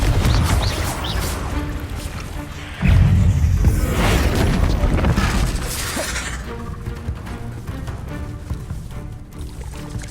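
Blasting spell impacts from Confringo in the video game Hogwarts Legacy: a loud booming burst with crackling, shattering debris that surges at about three seconds and then decays into rumbling game effects and music.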